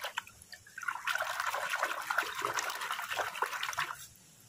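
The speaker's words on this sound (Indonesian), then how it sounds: "kita cuci kucek-kucek" A toy horned beetle is washed and scrubbed in water, giving a steady close splashing, sloshing wash that runs for about three seconds with drips before and after.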